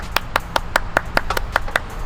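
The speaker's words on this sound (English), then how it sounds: "Round of applause for yourself." Scattered hand clapping from a small group, about ten distinct claps at an uneven rhythm over a couple of seconds, fairly close with faint room noise and no talk.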